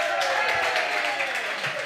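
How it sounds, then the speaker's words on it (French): Steady applause from a comedy show audience, a dense wash of clapping that holds evenly throughout at moderate loudness. "Vous pouvez vous applaudir, messieurs, dames."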